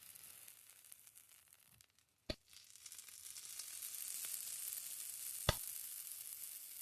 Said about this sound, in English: Here's more mirepoix. Let me add it to the heated pan.